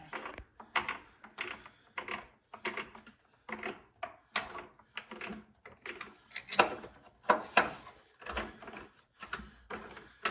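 A hand ratchet bolts down a patch panel on a Jeep Wrangler, giving close, quick bursts of clicking strokes repeated in uneven runs with brief pauses between them.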